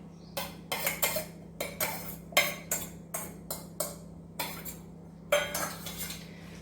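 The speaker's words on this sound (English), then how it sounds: "So now let's mix all these ingredients together." A spoon clinks and scrapes against a bowl while jowar flour, grated lauki, red chili powder and oil are mixed, producing a rhythmic series of sharp taps roughly every half second over a low steady hum.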